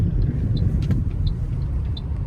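A car engine rumbles steadily up close while the car is parked near a company gate, with a few faint high chirps above the low drone.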